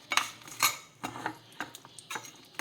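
Ingredients roast lightly in oil in a pan while a metal spoon stirs them, giving sharp irregular clinks and scrapes against the pan at close range.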